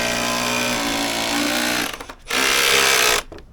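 A power screwdriver drives screws through a screw jig into a wooden railing at a holiday home build. It gives two loud, close, high-pitched whirring runs, the first long and the second shorter, with a brief pause between them.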